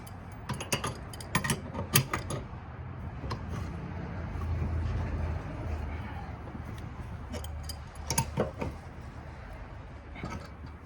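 Quiet, irregular bursts of ratcheting clicks as a wrench tightens the blade nut on a John Deere riding mower, with clusters of sharp ticks separated by short pauses.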